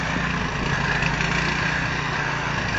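A snowblower engine running at half choke drones steadily and loudly, close up and unbroken, with no talking.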